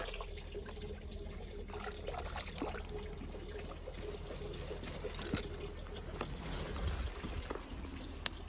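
A small stream in the Czech mountains murmurs with a steady, soft trickle and gurgle that runs continuously at moderate-low volume, with no talking.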